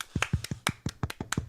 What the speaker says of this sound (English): Okay, clap everyone for